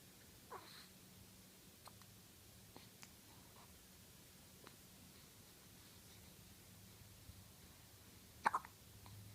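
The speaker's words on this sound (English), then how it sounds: "Little hiccups." A small baby hiccups softly in a quiet room: a few faint, scattered hiccups, with a sharper, louder pair near the end.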